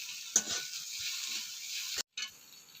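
Onions sautéing in a pan with pepper powder, a steady broad hiss with a sharp crackle near the start and a brief dropout before the sizzle resumes, no voices.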